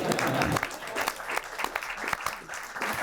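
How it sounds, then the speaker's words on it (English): Audience applause at a press conference on a city initiative for unhoused residents: several seconds of close, uneven clapping from a modest crowd, individual claps standing out before questions begin. "We can clap back."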